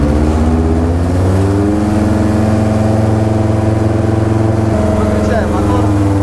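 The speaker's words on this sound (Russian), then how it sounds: "Друзья, как запускается мотор, мы вам демонстрируем." The engine of a Pipistrel Taurus motor glider starts up, a loud, buzzing mechanical drone with harmonics that climb and settle into a steady run near the listener.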